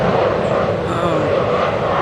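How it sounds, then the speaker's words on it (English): A broad, steady roar of a propeller airplane overhead fills the whole stretch, loud and continuous without a clear rise or fade. "Sorry about the plane."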